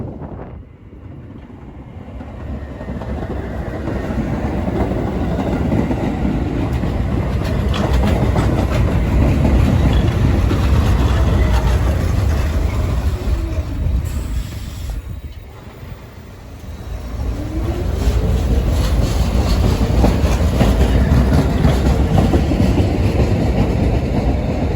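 Staten Island Railway R44 train cars pass during the evening rush with a loud, close rumble, clickety-clack and wheel squeal, then fade briefly before a second loud passage rolls through, with some wind noise.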